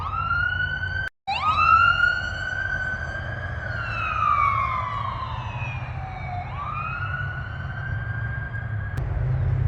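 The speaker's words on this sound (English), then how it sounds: "at least we have an ambulance" An ambulance siren wails close by, its pitch rising and falling in long sweeps over a steady low traffic rumble.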